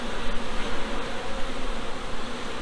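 Honey bees swarm around an open hive of brood frames on a farm, making a dense, continuous close-up buzz with no talking.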